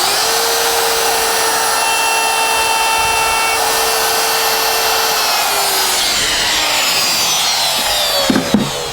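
A router cuts a line in wood, a loud continuous high whine with rough cutting noise whose pitch sags under load, near and steady throughout, with a few knocks at the end.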